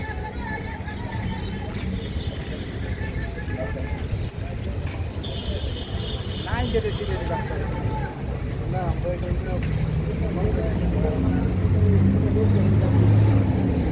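A pickup truck pulling away on a road in Bangladesh, heading toward Nawabganj and Bholahat: a steady engine rumble with road noise throughout, under people talking nearby.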